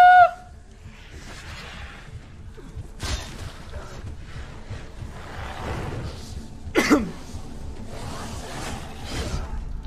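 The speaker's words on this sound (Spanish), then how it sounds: "estoy tosiendo" Person coughing while playing a video game, a few short harsh bursts and throat clearing close by, spaced over quiet game ambience.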